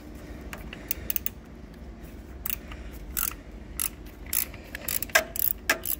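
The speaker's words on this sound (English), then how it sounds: "Took a couple more tries with the double wrench" A double wrench ratchets on a bolt while working on a Cadillac Eldorado Northstar engine rear main seal, giving quiet repeated clicking pawl strokes in short uneven bursts, close by over a low background hum.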